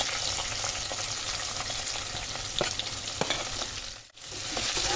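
Chopped onion fries with garlic in a pan for chowmein, a dense, steady sizzle broken by stirring scrapes, with a brief near-silent dip just before the end.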